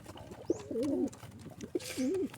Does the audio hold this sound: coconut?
no